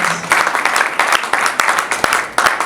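A church congregation applauds together, a steady wash of clapping with bursts that swell and fade across the short span, fairly loud and close, with no speech over it.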